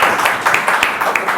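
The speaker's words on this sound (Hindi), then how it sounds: "इसके ऊपर तालियां बनती है" A short burst of audience clapping during an interview event, several hands beating in quick irregular claps, close and fairly loud.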